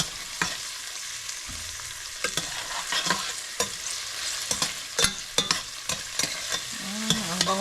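Chopped tomatoes frying in a pan for a vegetable dish, a steady sizzle broken by repeated sharp scrapes and clacks of stirring, heard up close and with no talk.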